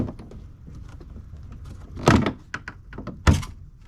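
Plastic grille clips on a 2021 Ford F150 being pried loose: a string of light ticks and scrapes followed by two sharp, loud snapping pops as clips release, close and without speech.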